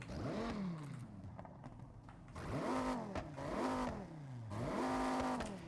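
A video game car engine with a cam revs up and down in repeated swells, rough and lumpy at idle, with a loud close sound and no voices.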